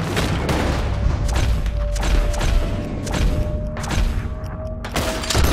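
Gunfire rings out in the Red Dead Redemption 2 game, a series of sharp, loud shots and booming blasts scattered irregularly across the clip over a background of game sound.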